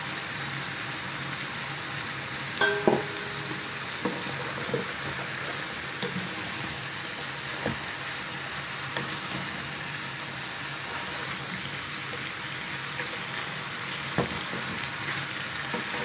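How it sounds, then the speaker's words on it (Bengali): Chicken karahi sizzles steadily in a pan over high heat while being stirred continuously, with a constant close frying hiss and occasional soft scrapes and taps of the utensil. "এটা একদম অনবরত নাড়া দিয়ে রান্না করতে হবে। চুলার আঁচটাও কিন্তু বাড়িয়ে রাখতে হবে।"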